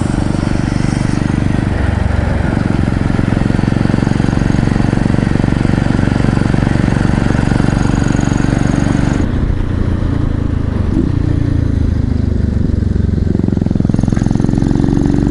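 A Yamaha SR motorcycle climbs an uphill hairpin mountain road, its single-cylinder engine droning loud and close throughout, with a shift in tone partway through.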